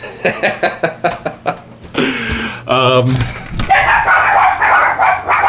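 Several dogs barking in a quick series of sharp, loud yaps, followed by excited whining and yelping, with a voice speaking over the commotion in a house with a front lawn.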